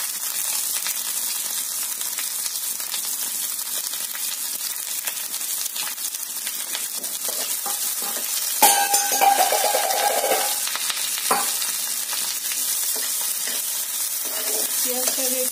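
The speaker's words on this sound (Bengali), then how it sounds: "পেঁয়াজটাকে একটু ভাজা ভাজা করে নিন" Chopped onion and green chilli sizzle steadily in hot oil in a pan, a close, continuous crackle broken by a louder stir and scrape partway through, with no one talking.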